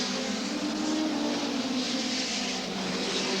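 Hot rod race cars roar around the oval at Hednesford Raceway, a continuous dense engine drone from several cars at once, steady and loud from a moderate distance.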